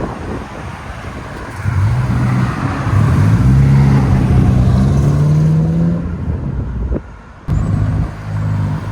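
A 2024 Subaru WRX with a 2.4L turbo and an Aeroflow Dynamics cat-back exhaust, silencer removed, revs close by in cold weather. The burbling exhaust drone rises and holds steady for several seconds, then drops and returns briefly.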